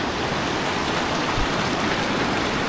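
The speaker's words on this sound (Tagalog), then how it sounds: "Grabe, ang laki ng tubig." A large, swollen river rushes past in a continuous loud roar of churning water, close and steady, with no voices over it.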